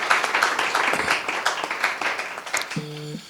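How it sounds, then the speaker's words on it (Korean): An audience at a conference on security in the AI era gives a round of applause, dense steady clapping from a seated crowd that fades near the end as a brief tone sounds. "다시 한번 큰 박수로 맞아주시기 바랍니다."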